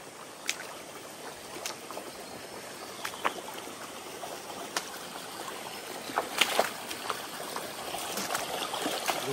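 Water splashing and trickling as someone wades across a stream near a waterfall in a valley, a steady running-water wash broken by intermittent louder splashes from footsteps, with no talking.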